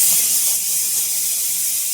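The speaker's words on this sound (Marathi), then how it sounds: "आपल्या कुकरच्या शिट्या पण झाल्या" A kitchen pressure cooker steaming steadily beside fish curry and frying mackerel, with a continuous loud, bright hiss and no pauses or talk.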